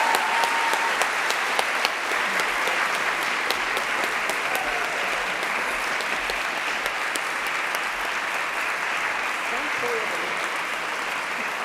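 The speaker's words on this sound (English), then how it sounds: "Huge round of applause for the people with the hardest decision." An audience at a university Three Minute Thesis competition breaks into sustained applause, a loud, even wash of many hands clapping with occasional sharper claps, lasting the whole stretch.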